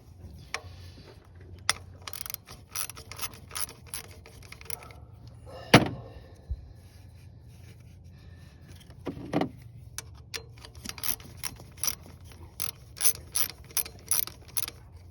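Ratchet wrench loosening 10mm bolts from a bracket on a 2005 Toyota RAV4 engine, quick bursts of rapid clicking separated by pauses and a couple of metallic clunks, close with no speech.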